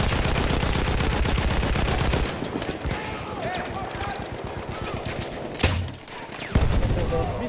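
A Lewis gun fires in a video game on the Praise de Tahure map: one long, rapid rattling burst, then scattered shots and thuds nearby, with game noise around.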